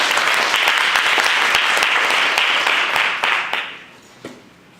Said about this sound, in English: So join me in giving a round of applause as we welcome Miranda